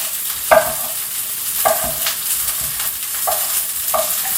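Beef chuck roast sears in a hot pan, giving a steady crackling sizzle broken by a few sharp scrapes and stirring knocks, close and clear with no talk.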